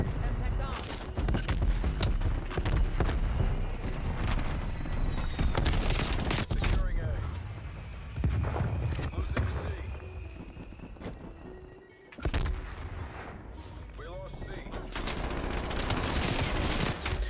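Streetsweeper shotgun hip-fired in a first-person shooter video game, loud bursts of repeated blasts and game effects filling most of the stretch, with a brief lull midway and talk mixed underneath.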